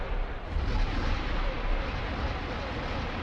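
Ship turrets in the X4 space game firing on a refinery from long range, producing a dense, continuous rumbling barrage of heavy booms that stays loud throughout.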